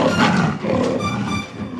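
A lion lets out a loud, sustained roar that rumbles on for almost two seconds, close and unbroken by talk.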